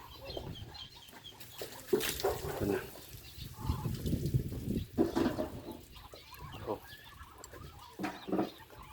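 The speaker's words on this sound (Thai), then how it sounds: "มีสีขาวมีไก่อยู่นำ" Chickens and ducks on a farm cluck and call intermittently near and far, with a person talking over them throughout.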